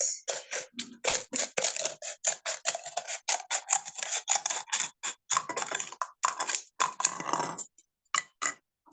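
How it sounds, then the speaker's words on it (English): Rapid, rhythmic snips of scissors cutting through material, close and crisp, repeating steadily with a few short pauses near the end. "Use your cutter, make a hole, and then use scissors to go around it."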